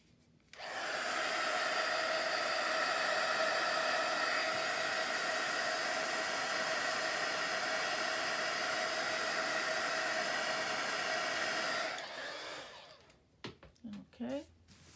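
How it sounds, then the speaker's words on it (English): A heat gun blows with a loud, steady hiss for about eleven seconds, then cuts off, leaving a few faint handling noises. "I'm going to hit this with my heat gun again real quick."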